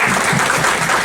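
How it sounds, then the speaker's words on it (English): Audience applause at a candidates forum, a brief steady wash of clapping that sounds like a small crowd in a hall. "we should give a round of applause to Jack Cook"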